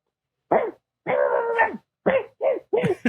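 A dog on a porch gives a string of short whimpers, yips and barks, close and fairly loud, in several separate bursts with brief silences between them.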